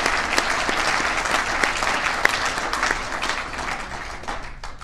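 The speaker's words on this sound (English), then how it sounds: "Can I get a round of applause for them?" A crowd at a squash hall of fame induction ceremony applauds in a dense, continuous wash of clapping that holds steady and then tapers slightly toward the end.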